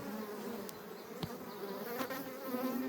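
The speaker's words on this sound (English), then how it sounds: "I just rolled a bunch of bees" Honeybees buzzing steadily around a beekeeper during a honey harvest, a continuous close hum with a few brief knocks and clicks from handling the frames.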